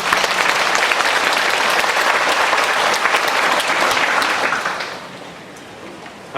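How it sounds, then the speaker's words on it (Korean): A large audience at a summer retreat for educators and parents gives loud, sustained applause to welcome a lecturer, dense clapping that holds steady before fading out in the last second or so. "우리 강사님 나오실 때 큰 박수로 환영해 주시겠습니다"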